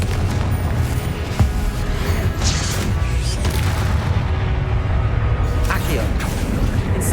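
Confringo spell explosions in the Hogwarts Legacy video game, a dense loud wash of booms and blasts mixed with battle noise and voices.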